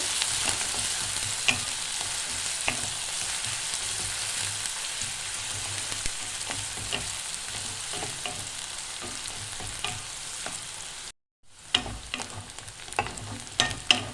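Onions fry in a pan for a dhaba-style egg tadka, giving a continuous crackling sizzle broken by scraping stir strokes. A brief dropout comes near the end, then the sizzling resumes.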